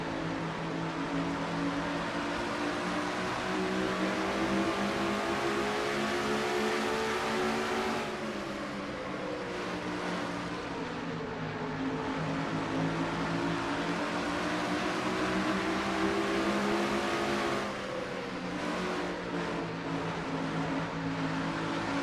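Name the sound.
stock race cars in heavy traffic, sim racing video game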